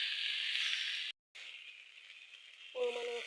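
Taro pieces frying with tomato, ginger and garlic in a pan, giving a steady close sizzle that cuts out briefly, then resumes with a light scraping rattle as the mix is stirred.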